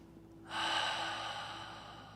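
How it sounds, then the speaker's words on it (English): A long, deep cleansing breath taken during a guided meditation at Unity Center NYC, a soft airy exhale rising suddenly and then slowly tapering away, close and quiet with no talking. "let's now take a nice, long, cleansing, deep breath"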